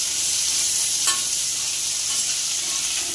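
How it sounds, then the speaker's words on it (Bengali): Crabs with chopped green chillies fry in hot oil, a bright continuous sizzle with a brief stir or scrape partway through, close and steady with no talking. "কাঁচা লঙ্কা দিয়ে আমি আর একটু ভেজে নেব।"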